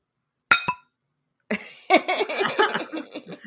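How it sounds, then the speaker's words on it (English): Two quick glass clinks against a microphone, ringing briefly near and clear, followed after a pause by a burst of coughing or throat-clearing and laughter. "I'm just gonna bump my glass up against my microphone."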